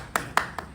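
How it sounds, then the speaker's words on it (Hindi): Three sparse, sharp hand claps spaced about a fifth of a second apart, fairly quiet, at an Independence Day flag hoisting outside a panchayat building, with no voices over them. "ताली"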